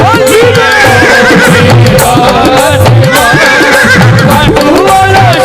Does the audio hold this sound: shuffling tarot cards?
no